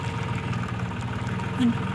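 A small farm tractor idles nearby with a steady low chugging rumble and faint rhythmic knock, running continuously on a rainy day with no pauses.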